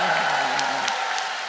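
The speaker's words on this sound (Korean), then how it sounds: "우리 가운데 박수." A congregation claps at a revival service at Osanri Fasting Prayer Retreat, a dense, steady wash of applause with crowd voices and brief cheers mixed in, plus a short voiced tone at the start.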